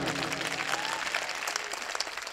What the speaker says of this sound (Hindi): मैं आपकी समझ में आई हो बात तो आपकी तालियां बजनी चाहिए।